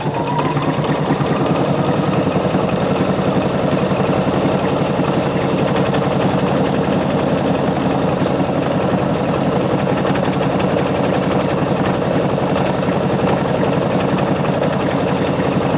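A Pfaff sewing machine stitches a decorative butterfly pattern with mixed thread, a steady close, loud rapid mechanical whirring that runs continuously without pause.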